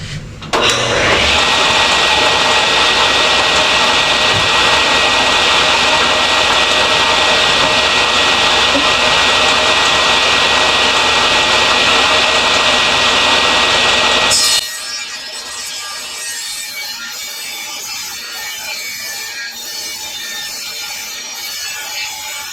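A table saw rips scrap wood with the fence set at 3 inches: a loud, steady whine and cutting roar for about fourteen seconds, then the blade stops abruptly, leaving quieter room noise.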